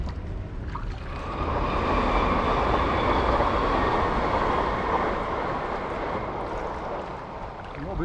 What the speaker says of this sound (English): Just had an aeroplane go overhead and now a train.